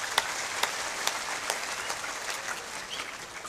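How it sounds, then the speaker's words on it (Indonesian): Lively audience applause at a Balinese drama gong comedy performance in Bangli, a dense, even patter of many hands clapping with a few sharper claps standing out, sustained for several seconds. "Penonton tepuk tangan yang meriah."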